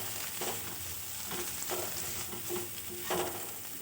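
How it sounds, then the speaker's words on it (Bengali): Potatoes frying in a pan with ground black pepper are stirred, a soft steady sizzle broken by several scraping stir strokes, quiet and close. "এবার একটু ভালো করে নাড়াচাড়া করে নেব।"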